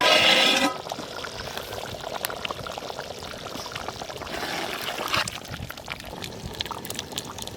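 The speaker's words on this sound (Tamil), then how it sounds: "அதுக்கு தேவையான அளவு தண்ணி ஊற்றிருக்கோம்." Water pours into a pot over chicken for Chettinad gravy, a loud splashing gush at first that settles into a steady bubbling, trickling flow.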